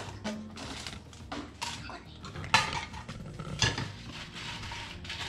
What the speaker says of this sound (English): let's get the masala fried first before it goes into the mixer